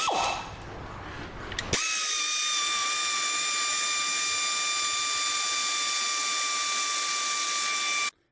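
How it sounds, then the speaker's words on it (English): A pneumatic air tool undoing bolts on a Ford Transit Connect during a clutch replacement. A short rattle is followed by a loud, steady high-pitched whir that runs for about six seconds and then cuts off. "And then I'm going to get the air tools out."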